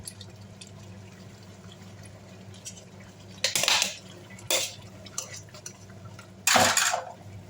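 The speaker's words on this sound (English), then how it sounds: "So I'm adding in the okra" Okra tipped into a pot of simmering okro soup with vegetables, giving three loud clattering, scraping bursts of metal against the pot over a steady low hum, with no talking.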